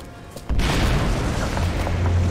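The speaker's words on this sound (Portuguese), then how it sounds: "Olha a Trinity, explodiu com isto tudo" An explosion in the video game Rise of the Tomb Raider: after a quieter lead-in, a sudden heavy boom hits and rolls on as a loud, sustained low rumble with crackling debris until the end.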